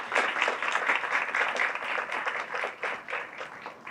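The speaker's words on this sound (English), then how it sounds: "A big applause for all of them." An audience applauds at a sustainability event, with dense, lively clapping that rises and falls slightly as it continues steadily throughout.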